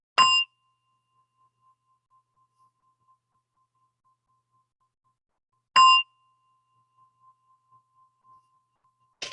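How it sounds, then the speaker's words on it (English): A gong struck to close a guided meditation rings out three times, once at the start, again near six seconds and at the very end. Each strike is a bright, short metallic ring with a faint lingering hum between strikes, in near silence. "as you hear the gong, slowly open your eyes"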